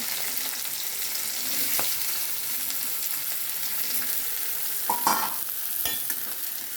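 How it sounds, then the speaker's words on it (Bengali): Onions fry in a pan for an egg curry with a continuous soft sizzle, broken by a few scraping stirs of a spatula against the pan, close and unaccompanied by speech. "আমাদের পেঁয়াজ ভাজা হয়ে গেছে"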